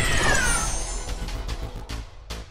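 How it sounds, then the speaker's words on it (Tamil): A cat meows amid a dramatic animated scene, voicing a devil spirit that takes on a cat's form to face an alien; the short meow is loud and close, followed by a few faint tonal calls over steady background noise. "அது ஒரு பூனையின் உருவத்தில் மாறி நிற்க"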